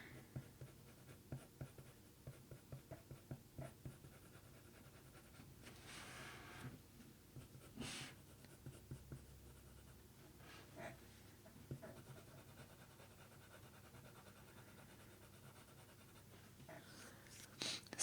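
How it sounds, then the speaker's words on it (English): A dark sepia colored pencil colouring in the spots of a leopard eye drawing on paper, with quiet rhythmic scratchy strokes, close up, sometimes broken by brief pauses and faint breathing. "So I'm just going to colour in all of these spots with my dark sepia pencil"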